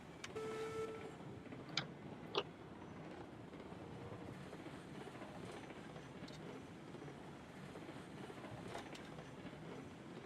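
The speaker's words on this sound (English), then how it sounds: "I think I see Will's train." A distant train in the video game Railroads Online rolls along steadily with a soft, continuous rumble, a few faint clicks and a brief high whistle-like tone at the start, quiet throughout.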